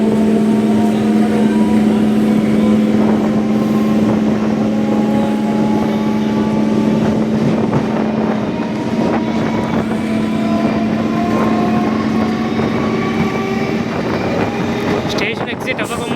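An MMTS suburban train runs from Secunderabad toward Kacheguda and Umdanagar, heard from on board as a loud, continuous rumble with a steady droning motor hum and wind rush throughout.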